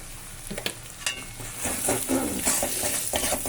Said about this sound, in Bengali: সব দিয়ে দিয়েছি মশলাটা ভালো করে কষিয়ে নিচ্ছি